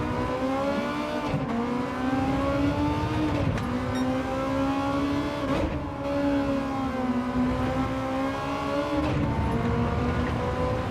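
Race car engines on racing soft tyres in Gran Turismo 7 lobby racing: a sustained, loud engine drone that rises and dips in pitch through gear changes, with no voices over it.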